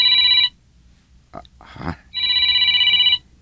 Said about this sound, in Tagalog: Ang cellphone ko. May tumatawag.